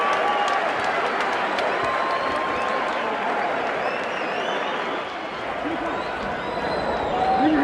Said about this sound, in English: The crowd into it. They are loving it.